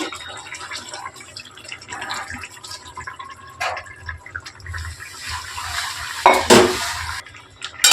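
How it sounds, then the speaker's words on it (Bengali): Ground poppy seed paste is stirred into boiled okra in a pan, with soft wet scraping and occasional clinks of a utensil against metal, up close and without talk. "আর এই পোস্তটা এখন ঢ্যাঁড়সের সাথে মিক্সড করে দিচ্ছি।"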